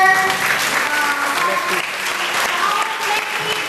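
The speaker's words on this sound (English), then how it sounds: "Let's clap our hands together for our collective" People at a diocesan pastoral meeting clap together, a loud, continuous wash of hands with faint voices and tones mixed underneath.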